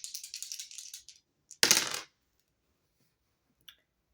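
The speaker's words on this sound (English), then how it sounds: "rolling the dice to see what I need to shuffle" Dice rattle and clatter across a hard surface in a quick burst of small clicks, followed by a sharper tumbling clatter and a final faint tick, close and isolated in a quiet room.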